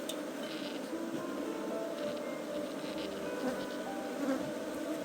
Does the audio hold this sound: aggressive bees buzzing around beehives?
yes